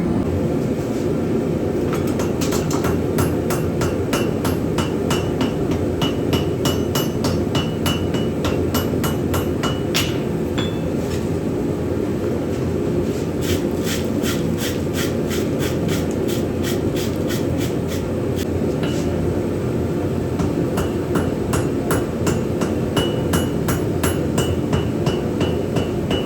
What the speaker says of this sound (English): In the next clip, you'll see me tapping it, setting the weld.